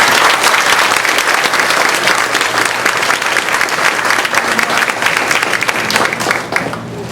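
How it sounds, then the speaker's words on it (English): A room full of people at a candidates forum dinner claps steadily and loudly for the head table, the dense applause holding strong before tapering slightly at the close. "everyone here offering up a round of applause for all of these folks across the head table"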